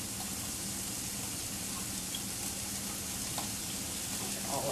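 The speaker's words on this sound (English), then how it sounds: "I want to saute this for a few minutes" Chopped onion and shallots sauté in a pan while stuffed grape leaves are being made, giving a soft, steady sizzle that continues evenly throughout at a low level.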